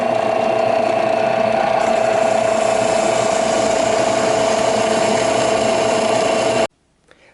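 A drill press runs steadily in a metal fabrication shop, a loud continuous mechanical whine with a strong steady tone for about seven seconds, then cuts off abruptly into near silence.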